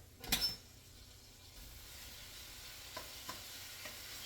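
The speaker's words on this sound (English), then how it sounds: "can go ahead and toss the chicken in there." Pieces of boiled chicken tossed into a hot skillet, a quick clatter and burst of sizzle at the start, then a low steady frying hiss with a few light scrapes of stirring.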